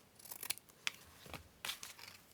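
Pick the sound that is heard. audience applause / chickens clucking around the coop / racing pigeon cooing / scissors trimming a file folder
scissors trimming a file folder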